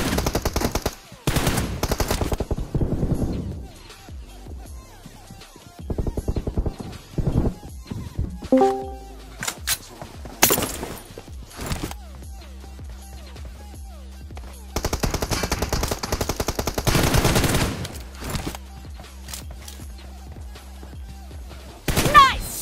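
Rapid bursts of gunfire in the mobile battle royale game PUBG Mobile, in a team deathmatch, loud and repeated with busy game effects and music between volleys.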